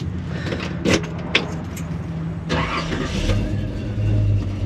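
The 396 big-block V8 of a 1967 Chevrolet Chevelle convertible cranks with a whirring starter, then catches and settles into a deep, rumbling idle that swells toward the end, heard up close.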